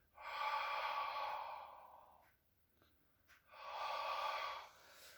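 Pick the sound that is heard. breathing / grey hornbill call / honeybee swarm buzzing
breathing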